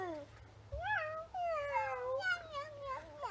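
A human voice imitates a cat with several drawn-out meows in a row, wavering up and down, close and fairly clear over a faint background hum.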